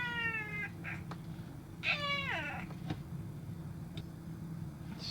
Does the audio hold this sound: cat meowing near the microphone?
yes